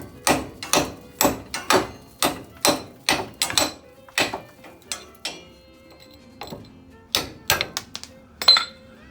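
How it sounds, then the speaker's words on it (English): A series of sharp metallic hammer blows knock a bracket off a Checker Cab A4 rear luggage rack, struck in a steady rhythm with brief pauses between bursts, close and loud with no talking. "Let's see if I can just hammer that out here."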